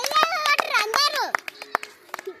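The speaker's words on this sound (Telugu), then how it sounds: "క్లాప్స్ గట్టి కొట్టాలి" Schoolchildren in a classroom clap hard in a burst of sharp, uneven slaps that trail off into a few scattered claps, while kids' voices and talk ring out close by.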